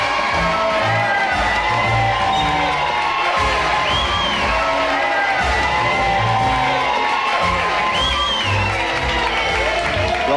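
Crowd gathered at Splash Mountain cheering and whooping, with scattered shouts and applause, fairly close and sustained, with voices mixed in.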